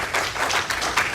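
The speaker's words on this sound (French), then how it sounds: "Allons applaudir les seigneurs, les musiciens." A church congregation applauds the musicians at a worship service, steady broadband clapping throughout, moderately loud and close, with no talk over it.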